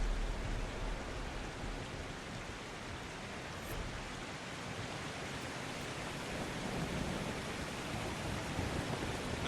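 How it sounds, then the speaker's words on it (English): Steady, unbroken rain hisses through the Deep Roads DLC game level, a faint, even wash of noise that never lets up. "it's always raining. The rain just never ceases"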